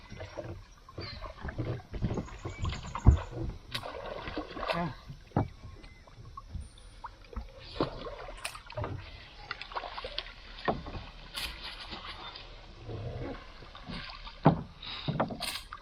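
A wooden boat moves on river water in the Sundarbans mangrove forest on a cold winter dawn during net fishing, with irregular paddle splashes and knocks against the hull and soft water lapping throughout, with no talk.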